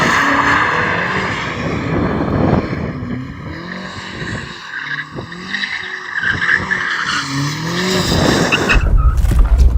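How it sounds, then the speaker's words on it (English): A BMW M car's tyres squeal loudly and continuously while being warmed up before a drag race, with the pitch wavering as the engine note rises and falls. "Before we race, shall we warm up our tyres?"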